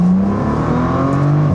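A Bentley GT engine revving as the car drives, a loud, close, steady mechanical drone with a rising whir and no talk over it.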